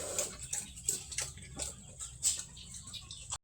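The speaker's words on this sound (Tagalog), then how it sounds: "Ito yung kaganapan sa aking mga alagang manok. Nagkakagulo sa pagkain." Backyard chickens cluck and squabble over feed close by in short, irregular bursts, with scratching and pecking noises between calls.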